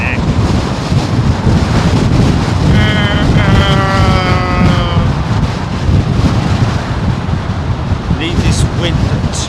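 Strong, steady wind buffets the microphone at London Heathrow Airport, a loud continuous roar filling the whole clip with gusty rumble and no pauses.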